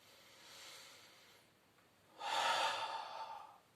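A person breathes in and out during a Pilates exercise, with a soft drawn-in breath followed by a louder, forceful breath out, both close.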